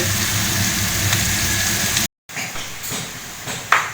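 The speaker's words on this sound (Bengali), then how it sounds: "এখানে কুঁদুরি ভাজা হচ্ছে" Ivy gourd (kundru) frying in a pan gives a continuous sizzle with a low mechanical hum beneath it, broken by a brief gap, then resuming with a few scattered crackles.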